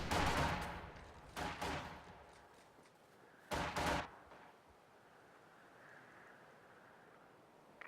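Bursts of game gunfire ring out in a World War II Company of Heroes battle, where an MG-42 machine gun team takes losses. Three loud volleys come at the start, near one second and near four seconds, with quieter rumbling between and after.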